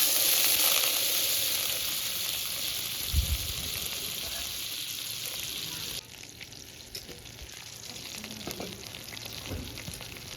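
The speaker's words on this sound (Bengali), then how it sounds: "এই মাখনটা আমি এখন কড়াইয়ের ভেতর দিয়ে দিচ্ছি" Butter for ghee sizzles and fries in a wok over a low flame, a steady soft crackling hiss with a brief clunk partway through, continuing faintly on its own.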